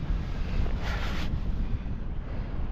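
Wind buffets the microphone on a river shore on a cold early morning, giving a steady low rumble with a brief gust swelling midway.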